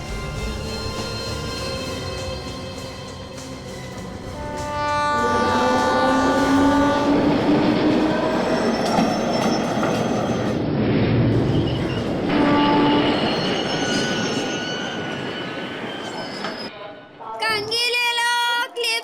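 A train rolls into a busy Indian railway station, loud and close, with a steady rumble of wheels, rattling cars, squealing brakes and drawn-out horn-like tones, and a brief stop near the end.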